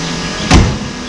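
A single solid thump of a BMW M car bonnet shutting, lowered against aged gas struts, sharp and close, with quiet background before and after.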